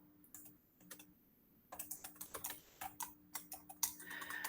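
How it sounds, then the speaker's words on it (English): Typing on a computer keyboard comes as quiet, close key clicks, sparse at first and then a steady run of taps, with a faint hum underneath. "don't worry about my typing"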